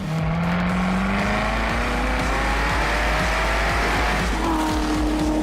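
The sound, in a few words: car rev-matching on corner entry during track driving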